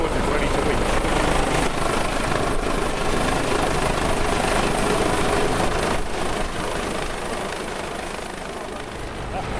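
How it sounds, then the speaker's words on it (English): A helicopter approaching low over the sea for a winching operation, its loud thudding rotor wash and engine roar filling the scene steadily before easing slightly toward the end, with talk faintly underneath. "The helicopter is now making its final approach towards us, ready to winch."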